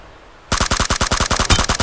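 Automatic gunfire in a video game bursts in after a brief quiet moment, a rapid rhythmic string of loud, sharp shots fired close up.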